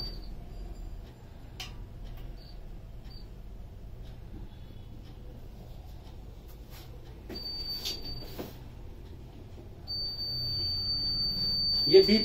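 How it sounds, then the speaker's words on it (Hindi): A glass double-stage 4-litre water distiller unit beeps while its heater has not yet switched on: a thin, steady, high electronic tone that stops and later returns for several seconds, faint above a low background hum. "ये बीप इसलिए बज रहा है कि आपकी यूनिट में अभी हीटर ऑन नहीं हुआ है।"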